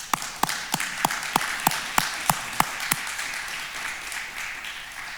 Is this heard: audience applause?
yes